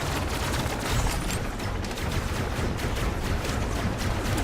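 Rapid gunfire from a gun-armed vehicle in the video game Robocraft, dense continuous bursts of shots rattling without pause at high volume.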